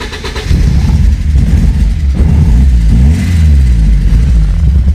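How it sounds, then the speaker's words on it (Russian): A Porsche 944 Turbo, recently revived after a no-start fault, cranks briefly and catches, then settles into a loud, close, steady engine note with slight revving. "машина запускается, снимаем без каких-либо проблем."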